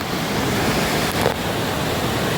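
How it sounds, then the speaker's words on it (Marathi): Strongly flowing water roars as a loud, continuous, dense rush of noise, close and unbroken, with no voices. "पाणीला वाहतोय रे बेकार"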